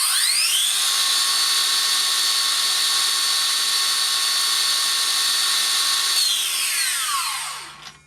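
A Makita LS002G 40V cordless 216mm mitre saw runs at full speed on a 4 amp hour battery, giving a loud steady high-pitched whine that holds for several seconds and then spins down as it is released.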